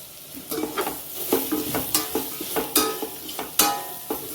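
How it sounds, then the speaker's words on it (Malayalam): Spice powders stirred into onions and green chillies frying in oil for a chicken stew, with a spoon scraping the pan in a quick, regular rhythm over a close, continuous sizzle. "പൊടികളുടെയൊക്കെ ഒരു പച്ചമണം പോകുന്ന സമയം വരെ ഒന്ന് ഇളക്കി കൊടുത്താൽ മതി"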